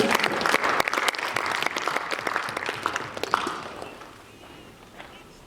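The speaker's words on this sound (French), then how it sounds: "Nous pouvons acclamer le Seigneur." A church congregation applauds loudly in a dense, steady clatter of claps that thins and fades toward the end, with scattered voices mixed into the crowd.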